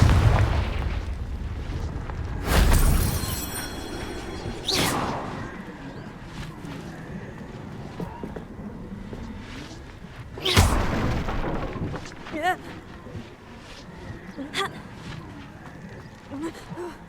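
Confringo fire-blasting spells exploding in the Hogwarts Legacy video game: two big booming bursts several seconds apart, each with a sharp crack and a rumbling tail, set among quieter game noise and occasional speech.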